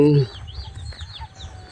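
Chickens cluck softly in the grounds of a Buddhist temple in Lampang, with a brief voice at the very start and short, faint calls scattered over low background noise.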